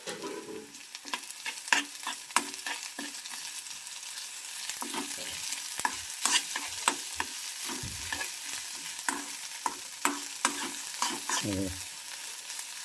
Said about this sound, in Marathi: मिरची थोडी तळून घ्यायची मित्रांनो